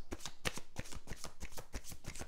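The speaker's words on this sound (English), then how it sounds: "Give them a quick shuffle." Tarot cards being shuffled in quick bursts, a rapid run of crisp riffling slaps repeating close and fairly quiet, with no talking.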